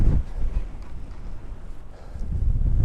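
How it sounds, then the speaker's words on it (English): Strong wind gusting outdoors in the Hebrides, a steady low roar buffeting the microphone, swelling louder toward the end with no voices. "if I was using a gimbal, it would be blowing all over the place in this wind."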